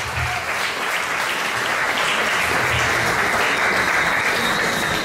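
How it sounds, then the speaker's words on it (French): An audience in Paris breaks into sustained applause, a dense, steady wash of clapping that stays loud and even throughout the few seconds. "juste nous mettre vos applaudissements"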